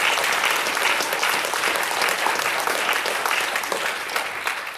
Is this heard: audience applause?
yes